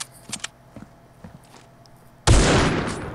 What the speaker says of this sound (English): Snipe! That boy got sniped.